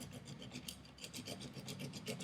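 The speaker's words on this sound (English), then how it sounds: "The rubbing, uh, the friction on the handle, and the sandpaper makes the sandpaper rather hot." Sandpaper rubbing against an F1 handle: quiet, steady back-and-forth rasping strokes in a close, even rhythm.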